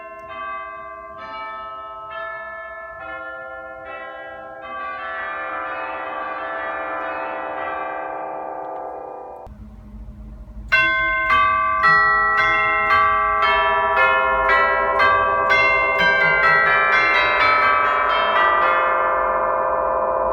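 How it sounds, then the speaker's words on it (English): Schantz pipe organ chimes in a church, golden tubes struck by hammers, ringing a slow melody of bright, bell-like tones that sustain and overlap, then a louder second passage with faster repeated strikes. "But these are golden tubes that are struck with hammers, just like orchestra chimes."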